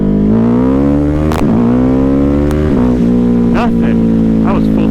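A Ducati Hypermotard 950 motorcycle is held at full throttle in first gear. Its loud, close engine drone holds steady and climbs slowly in pitch, with brief gusty bursts over the top.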